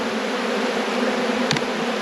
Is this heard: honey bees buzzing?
yes